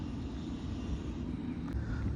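Cessna 152 light aircraft flying the circuit at an airfield: a steady, low engine drone heard from a distance, mixed with wind rumble and no voices.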